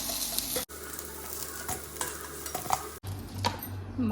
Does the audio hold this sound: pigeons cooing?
no